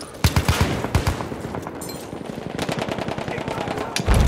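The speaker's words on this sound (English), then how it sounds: "Machine gun!" Machine gun fire in the Battlefield 1 video game on the Amiens map during a team deathmatch, rapid loud bursts of close automatic shots repeating throughout, with more distant rattling in between.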